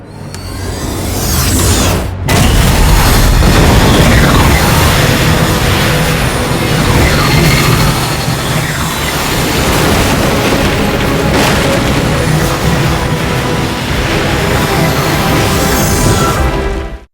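A large explosion destroying a satellite in an action film: a sustained, loud, roaring blast that rumbles continuously after a brief gap near the start, then cuts off.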